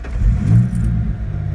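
A 2001 Ford Mustang with a manual gearbox and 3.8L V6 at 144,814 miles, warm engine starting up: a brief loud crank and catch settling into a low idle rumble with a faint jangle of keys.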